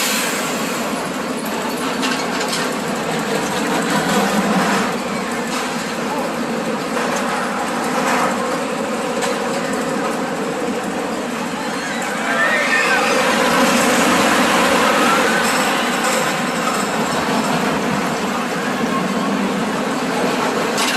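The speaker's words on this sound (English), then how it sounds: "The Cornball Express is going by, so we'll do a ride by over here." The Cornball Express, a wooden roller coaster built by Great Coasters International at Indiana Beach, passes by with a sustained rumbling roar of the train on the track that swells louder toward the end.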